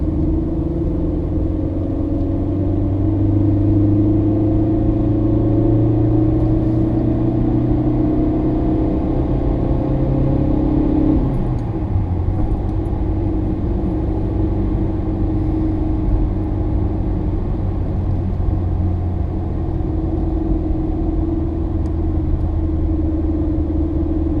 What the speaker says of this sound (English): So I'll give the motor a bit of stick going up this hill now.